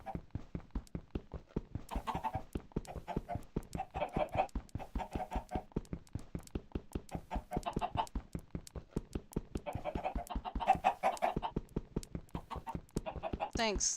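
Minecraft chickens clucking and squawking in the game, with a rapid, regular ticking of repeated short sounds running throughout and a voice talking at times.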